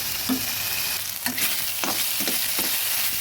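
Green chillies and cabbage frying in a pan for a vegetarian Bengali cabbage dish, a steady close sizzle broken by spatula stirring scrapes about every half second, no talk.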